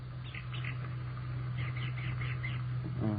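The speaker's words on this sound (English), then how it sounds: "I think it's a very healthy brown thrasher." Recorded brown thrasher call, bursts of quick chirping phrases played back over a steady low hum and muffled broadcast-style background, moderately loud.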